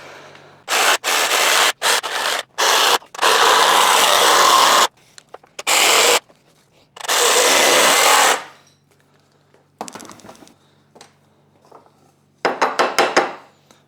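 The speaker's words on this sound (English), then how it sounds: "I always hate using jigsaws." A jigsaw cuts through a small metal NAS computer case in loud, close bursts of harsh buzzing, separated by short pauses and lighter scraping and handling noises.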